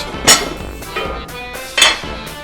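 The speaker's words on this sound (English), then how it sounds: "Take the Dutch oven out." A heavy Dutch oven used for baking sourdough bread is lifted from the oven, giving a couple of loud metallic clanks and clinks of cookware close by, with quieter rattling between them.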